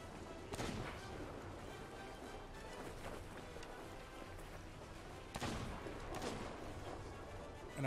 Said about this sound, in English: And I do hear gunfire with these.